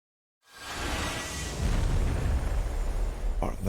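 A loud, rumbling explosion from the video game Triangle Strategy as a bridge is blown up, starting abruptly and holding a sustained roaring boom with debris noise for several seconds.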